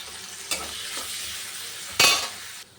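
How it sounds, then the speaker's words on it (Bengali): Grated coconut lightly frying in a pan, a soft continuous sizzle with a couple of sharper bursts of hiss as it is stirred or tossed, close and without voices. "এবার নারকেলটা একটু হালকা ভেজে নেব।"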